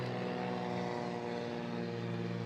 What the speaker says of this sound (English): So here's that plane coming in strong